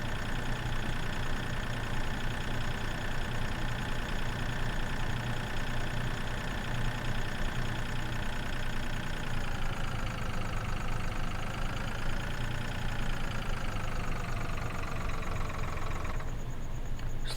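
A small tractor engine runs steadily in Farming Simulator 2013, a continuous droning hum with a slight pitch shift partway through and no talking.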